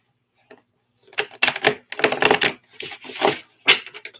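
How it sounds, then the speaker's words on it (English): A deck of tarot cards is shuffled up close, a series of crisp riffling and tapping bursts in quick uneven clusters, with no talk over it. "Let's shuffle these up."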